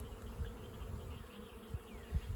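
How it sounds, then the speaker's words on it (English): Honeybees crawling over a freshly emerged brood frame during a swarm-cell check, a soft continuous buzzing hum close to the microphone, faint and steady with no voices. "there's a lot of bees on this frame that's just emerged"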